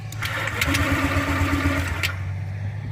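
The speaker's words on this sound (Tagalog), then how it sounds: "Nag-start siya pero hindi siya nagtutuloy." A Honda Click scooter's small engine cranks and briefly catches with a rough, uneven sputter, then falters instead of settling into a steady idle, heard close up; it starts but won't keep running.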